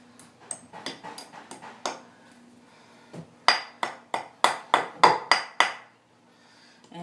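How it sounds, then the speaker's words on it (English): Hammer blows knocking nails loose from a board, a scattered set of sharp metallic strikes followed by a faster run of about nine loud, evenly spaced hits, close by with no talk. "the other one we got off by hammering it in all places"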